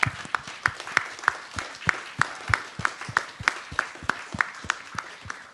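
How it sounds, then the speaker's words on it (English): At a forum theater talk, an audience claps in a strikingly rhythmic, unison beat, sharp evenly spaced claps about three per second over a light bed of scattered applause, moderately close. "let's give a round of applause for Zia."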